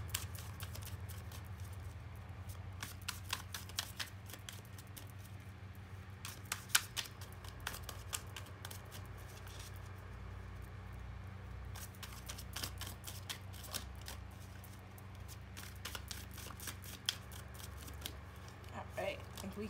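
Tarot cards shuffled by hand at close range, a steady soft riffling and flicking with clusters of crisp snaps, over a low constant hum.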